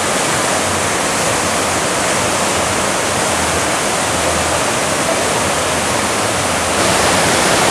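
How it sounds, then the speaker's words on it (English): Waterfalls at a garden entrance of the Wynn hotel in Las Vegas roar in a loud, steady wash of falling water, close and continuous, with no voices over it. "These are some of the cool falls as you enter one of the hotels here."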